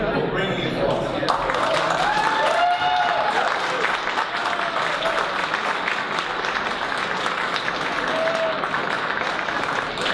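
Audience at a VR meetup at the Computer History Museum applauds, a steady dense wash of clapping running loud throughout, with voices mixed in.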